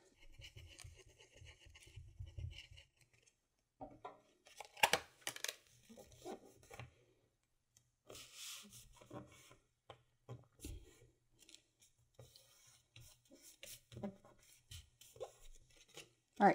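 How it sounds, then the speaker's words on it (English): Paper envelope side flaps folded by hand give close, intermittent scratchy rustles, soft taps and creases, with quiet pauses between bursts and no talking. "we're going to fold in the side flaps first and then secure it"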